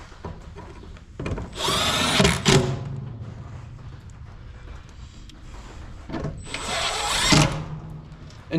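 Power drill whirring in two bursts while fitting trailer lights, the first around two seconds long and a second shorter run later, each rising and winding down over a steady low background hum.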